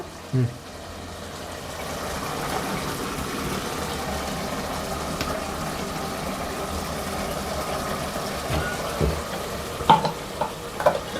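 Ground spice paste of chilli, garlic, coconut, coriander and salt stirring in a frying pan for mutton curry, with a steady, moderate sizzle and occasional scraping of a spatula.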